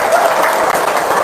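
A brief, loud burst of audience applause at a seminar, a dense wash of clapping lasting about a second.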